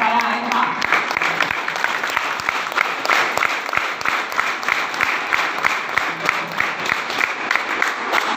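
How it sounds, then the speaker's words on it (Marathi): Audience applause for Sanjay Wable sir at a motivational talk, a dense, steady burst of many hands clapping that carries on without a break for the whole stretch. "ग्रेट गुरु मिस्टर संजय वाबळे सर यांच्यासाठी एकदा जोरदार टाळ्या मिळवूया"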